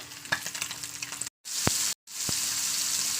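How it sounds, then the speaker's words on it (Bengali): Fish frying crisply in a hot pan gives a steady, bright sizzle close by, broken by two brief silent gaps, with a couple of sharp spatters or pops. "মাছগুলো একটু কড়া করে ভাজতে হয়"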